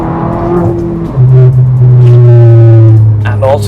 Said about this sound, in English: And also the exhaust note is fantastic.